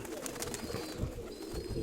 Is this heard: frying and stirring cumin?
no